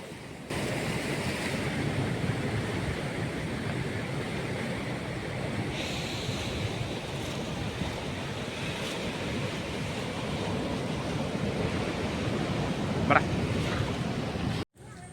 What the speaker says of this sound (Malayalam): കടൽ കിടന്നടിക്കുന്ന അടിയുണ്ട്